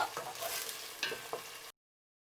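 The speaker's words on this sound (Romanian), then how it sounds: "Punem usturoiul. Călim tot așa 2-3 minute." Garlic sautéing in a pan for a stew of beans with smoked meat, with a few scraping stirs and a soft sizzle over roughly two seconds before it cuts to silence.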